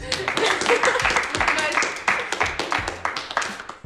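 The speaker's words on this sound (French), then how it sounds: "Je pense qu'on peut applaudir les bleus du coup." A room of people breaks into applause, many hands clapping irregularly and fairly loudly for several seconds, with a few voices mixed in.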